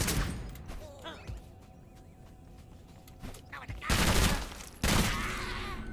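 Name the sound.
sniper gunfire in a video game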